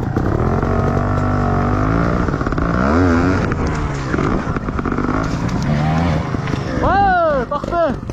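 Motorcycle engine revving hard during a wheelie attempt, loud rising and falling throttle sweeps close by, with a sharp surge near the end.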